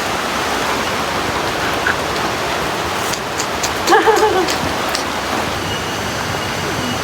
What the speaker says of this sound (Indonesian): Kelihatan toh, hujannya deras.